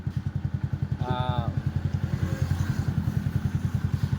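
A Honda Wave 125 motorcycle engine is started with a single click and settles into a close, steady, thumping idle. A voice speaks briefly over the running engine.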